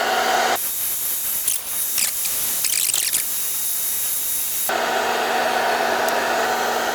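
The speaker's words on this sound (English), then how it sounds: "So I'm afraid it's the hairdryer all round." A hair dryer blows steadily and loudly with a constant whine, briefly shifting pitch and then continuing at a stronger, rougher setting, used to clear fogged-up headlights on a BMW E31.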